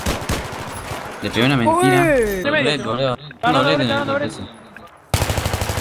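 Rapid video game gunfire bursts, crisp automatic shots under excited Spanish voices of players calling out kills, with a loud burst of shots at the end.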